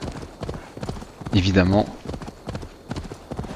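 Horse hooves clip-clop in Assassin's Creed Valhalla gameplay, a steady trotting rhythm running through the clip under someone talking in French.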